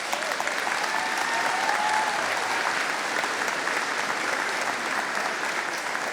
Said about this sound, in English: Let us now applaud these graduates.